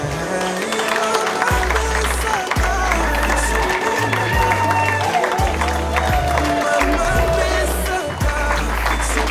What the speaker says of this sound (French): je vous demande d'applaudir pour le couple